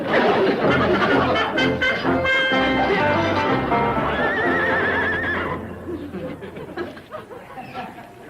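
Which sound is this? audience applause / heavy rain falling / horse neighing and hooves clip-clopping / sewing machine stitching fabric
horse neighing and hooves clip-clopping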